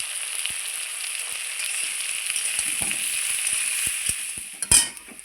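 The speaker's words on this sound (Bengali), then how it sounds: "এবার দিয়ে দিচ্ছি কাঁকরোল আর দিয়ে দিচ্ছি পরিমাণ মতো হলুদের গুঁড়ো।" Spiny gourd (kakrol) pieces with turmeric powder sizzle steadily in hot oil with dried red chillies in a pan, with occasional clicks of a spatula and a louder scrape of metal near the end.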